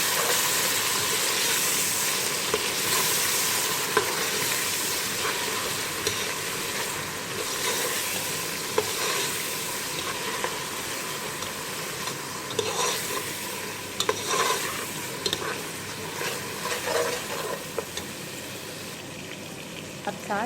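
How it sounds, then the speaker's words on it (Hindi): Ginger garlic paste frying in oil with garam masala for pea pulao, a continuous close sizzle and hiss with frequent stirring and scraping strokes over about twenty seconds. "तो हम इसके अंदर अदरक लहसुन का पेस्ट शामिल कर देंगे। इसको अच्छी तरीके से भूनेंगे।"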